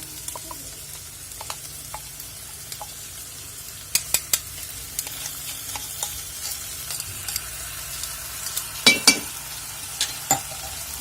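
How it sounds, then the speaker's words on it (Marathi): Okra frying in a pan as thecha chili paste is added, with a steady soft sizzle and scattered clinks and scrapes from stirring, heard close and without talk. "तर इथे मी पूर्ण हा ठेचा घालून घेते"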